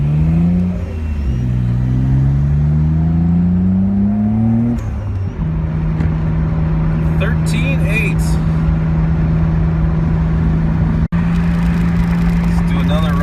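An R32 Skyline GTR engine on a boost test run, revving up with rising pitch, dropping back, then holding a loud steady drone with a sharp click near the end; close and loud, with talking at times.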